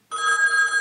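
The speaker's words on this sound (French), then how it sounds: "Le téléphone des sponsors qui sonne" A short electronic telephone ring, a steady bright tone that starts abruptly and sounds clearly on its own.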